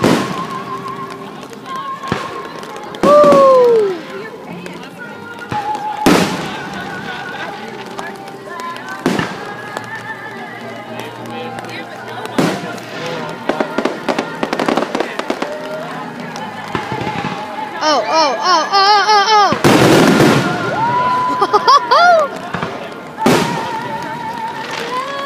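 Fourth of July fireworks bursting repeatedly, with sharp booms, whistling rises and crackling trails at varying distances, while onlookers talk and react throughout.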